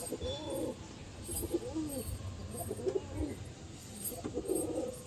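In Tukai's pigeon loft, birds give a series of throaty cooing phrases, about four distinct bursts spaced a second apart, near and clear over soft ambient hiss.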